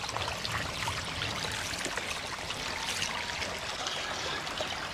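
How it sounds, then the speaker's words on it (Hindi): Cold, clean stream water in a remote Uzbek village, rushing steadily with a dense, close hiss and babble and no breaks or voices. "कितना बढ़िया बढ़िया ठंडा पानी बह रहा है"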